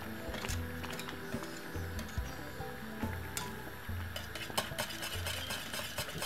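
Cornmeal and milk stirred together in a pot for porridge, a steady scraping swish with light clinks of the spoon, close and fairly quiet, with no talk.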